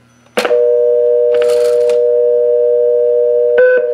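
A steady telephone tone hums continuously on a rotary dial telephone with a pulse-to-DTMF converter redialing a stored number, with a short burst of dialing noise early on and a brief tone change near the end.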